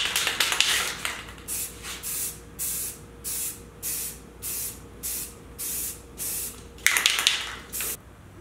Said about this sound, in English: Now I'll just start putting a few layers of spray paint on it